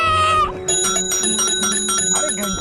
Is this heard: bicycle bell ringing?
yes